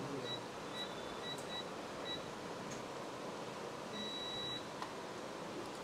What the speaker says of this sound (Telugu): బజర్ మోడ్లో పెడితే మీకు వినిపిస్తుంది